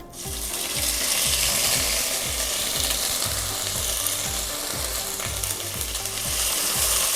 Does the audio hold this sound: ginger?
yes